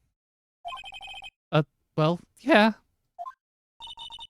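After a redial, a telephone in the Ace Attorney video game rings in short repeated electronic trills, with pauses between them, and game dialogue voices come in between the rings.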